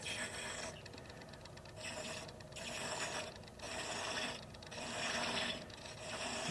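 A hand-held cutter cuts a thread into an acrylic box lid at slow speed, making a dry, rasping, ratchety scrape in repeated strokes with brief gaps between them, close and fairly quiet.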